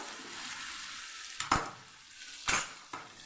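Okra cooking in a pan for Kathiyawadi-style bhinda shaak gives a quiet steady sizzle, then a few sharp spatula scrapes and clanks against the pan after a lull, with no talk.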